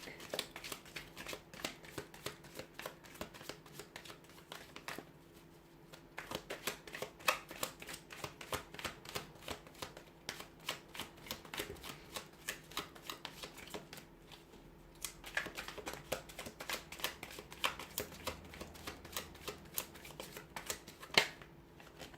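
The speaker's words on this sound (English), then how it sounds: "we'll go ahead and give the cards a shuffle" Tarot cards are shuffled over and over in rapid riffling bursts of crisp clicks, with brief pauses between rounds, close and fairly quiet.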